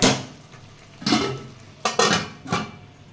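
Metal clanks as a pot of mutton biryani with basmati rice is covered and sealed for dum cooking, with four distinct knocks of the lid and utensils spaced out, each ringing briefly, close and fairly loud.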